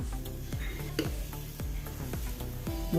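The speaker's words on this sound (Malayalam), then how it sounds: "ഇനി രണ്ടാമത്തെ ദോശ ഒഴിച്ച് കൊടുക്കാം" Ragi dosa batter hisses and sizzles on a hot pan while a utensil taps and scrapes the surface in repeated clicks, a steady frying crackle running beneath.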